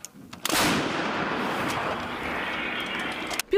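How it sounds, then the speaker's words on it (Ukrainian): A single loud, booming artillery shot erupts, followed by a long rumbling roar that lingers for several seconds before cutting off. "звучить команда Вогонь. Гармата постріл."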